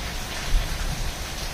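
Steady rain falling outdoors, a dense, even hiss of drops at moderate volume with no voices.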